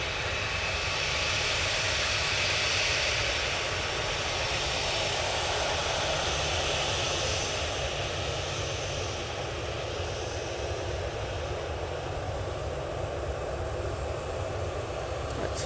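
A Ryanair jet at Manchester Airport gives off a broad, continuous engine roar, steady and fairly loud, drifting slightly in tone, with no talk.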